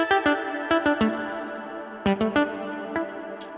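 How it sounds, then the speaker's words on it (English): Short plucked synth notes repeat through a delay effect, echoes smearing into a shimmering reverb tail that lingers between the note clusters. "those delays will be diffused out so that it introduces this reverb type sound"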